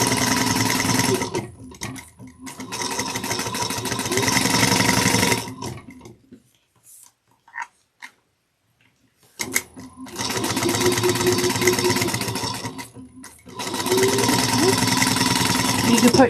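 Sewing machine stitching down the long edge of a fold-over cross-body bag, running in fast whirring bursts of several seconds, stopping in the middle with a few small handling clicks before resuming twice more.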